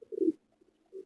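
Soft, low cooing from a pigeon, one throaty call followed by a shorter, quieter coo after a brief pause, fairly close.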